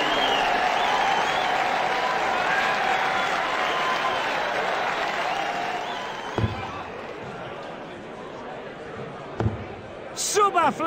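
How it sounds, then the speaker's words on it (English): Crowd applause fills an arena at the PDC World Darts Championship, a loud sustained clapping and cheering that slowly fades, with a few sharp thuds and a voice at the end. "Applause."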